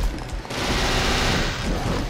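Rapid gunfire from Dante's guns in the action game Devil May Cry 2, a dense continuous burst of shots blending into a loud roar with no clear gaps between rounds, and no voices.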